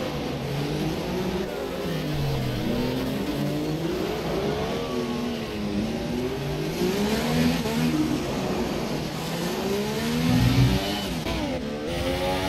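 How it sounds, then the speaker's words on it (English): Formula One race cars in a Monaco race video game, engines droning steadily with rising and falling pitch as they pass through the tunnel and into the chicane, with no talk. "Switching between Fluffy Dave and A-Decide as they go through the tunnel into chicane"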